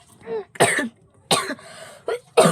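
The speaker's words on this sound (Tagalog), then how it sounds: "May ubo pa ako" Several short, harsh coughs in quick bursts, close by, with brief pauses between them and one longer raspy stretch in the middle.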